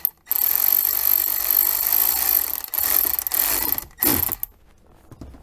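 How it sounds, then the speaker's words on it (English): A power tool whirs loudly in two long bursts, stopping briefly between them, then a short final burst before it cuts out, tightening fittings during a Jeep Wrangler JK stereo installation. "we are using, you know, a power tool"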